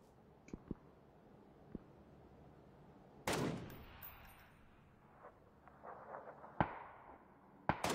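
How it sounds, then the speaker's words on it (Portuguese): Gunfire in an online video game: scattered single shots, faint and distant, with a louder sustained burst partway through and a few sharp cracks toward the end. "Eu estou a levar a tiro, não sei de onde."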